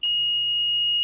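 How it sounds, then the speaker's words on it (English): A sump pump high-water alarm on an SJE Rhombus switch sounds a single steady, piercing electronic tone, loud and close, held unbroken for about a second with no talking over it. "There's the alarm. It's showing high water"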